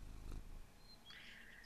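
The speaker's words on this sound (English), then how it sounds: "If you listen real quiet, you can hear the cat purr." A cat purring in a dating sim video game: a faint, low rumbling purr for about half a second, followed by soft, thin high chirps in a quiet setting.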